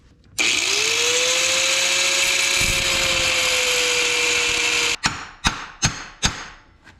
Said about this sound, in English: we're basically just trying to cut right in here, just cut in one of these grooves and just get it as deep as you can as far across